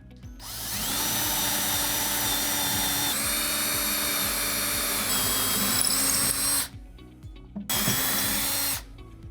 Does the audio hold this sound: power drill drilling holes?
yes